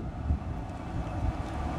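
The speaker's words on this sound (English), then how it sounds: "Got a pretty bad storm rolling in right now, so sorry about that noise in the background." Storm wind blows outdoors as bad weather rolls in, a continuous low rumbling roar with slight gusty swells and no voices.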